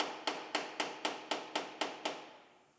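Sharp metallic strikes of a scraper chiselling through spot welds on a Mustang GT quarter panel, eight evenly spaced close blows roughly a quarter second apart, each ringing briefly before the last one decays.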